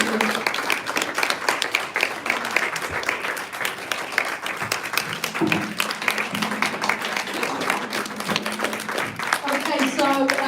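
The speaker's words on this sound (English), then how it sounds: "can we just give all 7 panelists a round of applause, please?" Sustained, loud audience applause for seven panelists at an autistic women's panel event, steady dense clapping filling the room for about ten seconds with a few voices murmuring underneath.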